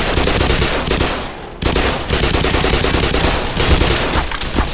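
Turret gunfire in the Black Mesa video game, loud sustained rapid automatic bursts with a brief dip before firing resumes.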